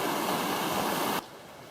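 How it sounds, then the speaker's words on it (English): A stream flowing in a canyon among thick vegetation, a loud, continuous rushing wash of water heard close by that cuts off abruptly to faint background noise near the end. "We're not far from the stream."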